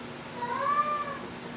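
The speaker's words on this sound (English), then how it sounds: "Cat thinks it's supper time." A house cat lets out a single drawn-out meow near supper time, moderately close and clear over a quiet hum, with no talking.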